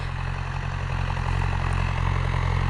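A tractor engine drones steadily and loudly while pulling a General disc harrow through a field at about 12 km/h at maximum depth. The low rumble is constant, with no speech.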